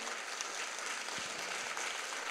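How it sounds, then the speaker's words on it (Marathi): An audience at a children's literature gathering applauds with a dense, even wash of clapping that holds steady and moderately distant for a couple of seconds. "पुन्हा एकदा आपण टाळ्या वाजवून या सर्वांचं कौतुक करूया."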